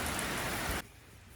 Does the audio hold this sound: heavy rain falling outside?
yes